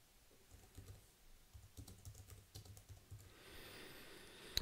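Keys clatter on a computer keyboard as someone types a synopsis, a quick irregular run of soft taps close by, ending with a faint hiss and a small click.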